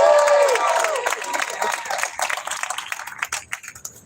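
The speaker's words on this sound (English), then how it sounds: "Applause for Tish James." A rally crowd in New York City applauds and cheers for Tish James, scattered claps and shouts rising over a faint tonal sound at the start, then thinning out.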